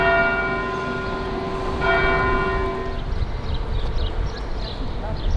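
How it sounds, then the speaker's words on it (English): Church bells at an old church in Elvas, Portugal, ringing in a rapid peal for about three seconds and then cutting off. Faint outdoor murmur and street noise continue after the ringing stops. "That's the one with the noisy bells."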